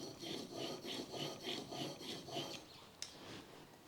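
A plane blade held in a honing guide rubbed back and forth on a fine sharpening stone, steady gritty scraping strokes in a regular rhythm, close and quiet, with a small sharp tap near the end.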